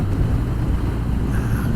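A BMW R 1250 R motorcycle coasts off the throttle, its low engine rumble steady and close beneath wind rush, with no talk over it.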